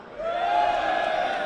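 A crowd at a Halo 5 launch event in the UK erupts in a sustained roar of cheering and whooping, loud and steady throughout.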